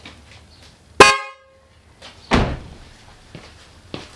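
A single short car horn toot from a Toyota GT86, followed by a heavy thud and a few faint knocks in a quiet setting.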